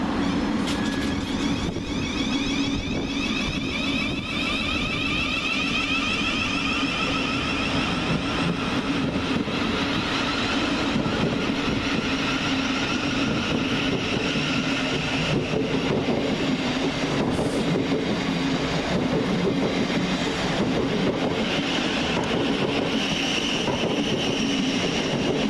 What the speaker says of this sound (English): it's time to get started with 700 130, with the slightly delayed 11:31 Govia Thameslink service from Bedford to Brighton